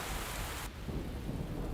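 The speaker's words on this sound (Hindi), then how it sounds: "उस रात बारिश हो रही थी" Rain falls at night, a dense, steady hiss of drops under a low rumbling, softening partway through into a quieter patter.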